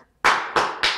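Three hand claps land in quick succession, each a sharp, bright smack close by, the first loudest, evenly spaced and alone without voices.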